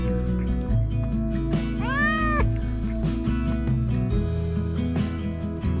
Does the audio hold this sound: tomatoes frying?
no